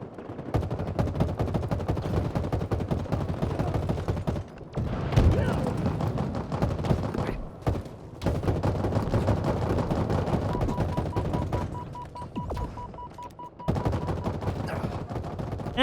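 Gunfire in a first-person shooter video game, played back through Behringer BH470 studio monitor headphones: rapid automatic bursts and single shots with booming impacts, dense and loud with brief pauses, mixed with game sounds.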